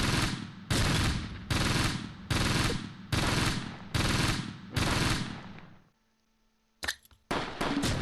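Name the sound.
machine gun fire in video game Close Combat Gateway to Caen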